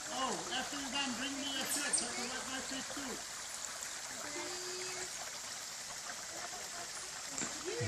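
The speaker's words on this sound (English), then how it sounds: "See, I told you there were waterfalls." A waterfall and stream run along a trail in New Jersey, giving a steady broadband rush of flowing water close by, with voices talking over it early on.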